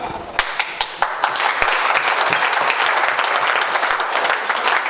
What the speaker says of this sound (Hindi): इतनी कम तालियां?